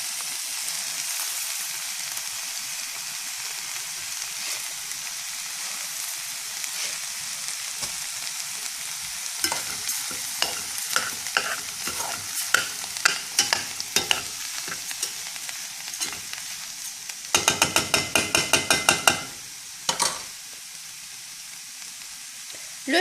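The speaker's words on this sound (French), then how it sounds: "Je vais maintenant ajouter les lentilles corail." Red lentils stirred in a cooking pot for a cauliflower soup, giving a steady close scraping and swishing with a faint sizzle beneath, then rapid clicking strokes that grow busier toward the end, with no talking.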